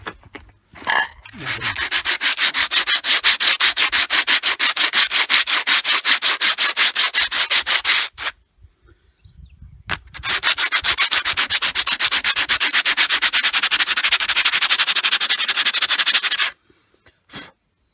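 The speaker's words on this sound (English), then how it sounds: "So what you want is a nice bit of about 60 grit emery" A brake pad from an Austin Allegro Estate front brake is rubbed back and forth on 60 grit emery cloth, giving steady rapid scratchy strokes in two long close bursts with a short pause between.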